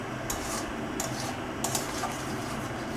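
A spoon scrapes and rubs through a ridge gourd (jhinge) dish in a pan, stirred until dry, with repeated close scraping strokes at an uneven rhythm over steady background noise and no talking.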